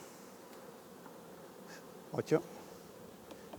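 Honeybees buzz around an open beehive during a hive inspection, a faint steady hum with a couple of brief louder passes of bees flying close, under quiet outdoor background.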